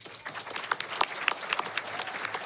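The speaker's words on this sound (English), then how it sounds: "clap that up." An audience at a youth event claps, a fairly faint, scattered patter of applause with a few sharper individual claps standing out.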